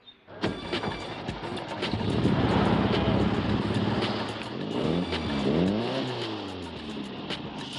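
A Baja 1000 race vehicle engine roars nearby, revving up to a loud sustained howl, then dipping and surging in pitch through several throttle blips.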